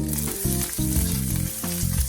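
Steady sizzling and crackling of sliced onion frying in a hot pan, close and continuous, with a faint tonal hum running beneath.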